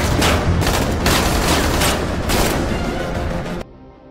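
Gunfire from a film shootout: a dense fusillade of loud, overlapping gunshots and bursts at close range, continuing for several seconds before cutting off abruptly into quieter residue.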